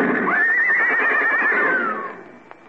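A horse sound effect from a 1953 comedy radio show gives one loud, close whinny that rises and wavers for about two seconds, then trails off, followed by a faint knock.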